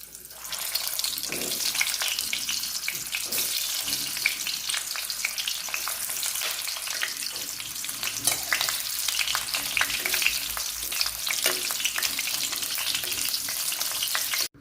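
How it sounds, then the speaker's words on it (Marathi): Onions fry in oil for a village-style masala curry, with a loud, continuous sizzle and crackle and occasional stirring scrapes running nearly fifteen seconds before cutting off. "आता आपण कांदे थोडे तेलात परतून घेऊ।"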